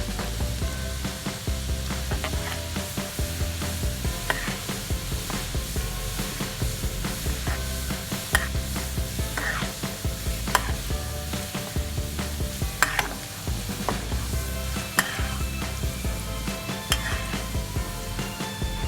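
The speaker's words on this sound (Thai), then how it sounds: "พอเหลืองแล้วเราก็จะใส่ใบมะกรูดลงไปนะคะ" Kaffir lime leaves fry in hot oil for a pork-crackling chili paste, a continuous crackling sizzle with frequent stirring scrapes and light clicks throughout, close and fairly loud, with no voices.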